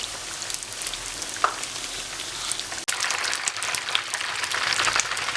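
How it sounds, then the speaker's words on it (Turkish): Minced-meat pişi dough frying in hot oil gives a steady, dense crackle and hiss that holds at a moderate level and briefly cuts out near the middle before resuming. "Altın rengi alana kadar yağın içerisinde tutacağız"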